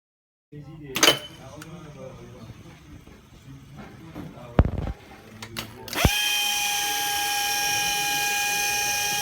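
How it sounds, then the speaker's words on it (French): An automatic drilling machine lowers, spins and rises: scattered mechanical clicks and knocks, a sharp thud, then a loud steady whirring drone starts abruptly and runs on, close by, with no talk. "la perceuse se met à tourner quand elle descend et elle remonte et elle reva de l'autre côté"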